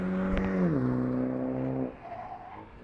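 A petrol MINI Cooper S with a sport body kit accelerates hard on a race track, its engine note rising through the gears before easing off, loud and close with no talking.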